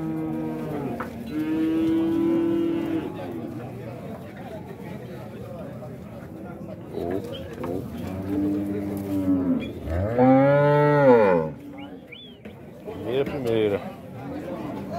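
Dairy cows moo at a milk-cow livestock fair in Dois Riachos, Alagoas, Brazil, several long, loud lowing calls close by, with a crowd chattering and someone talking throughout.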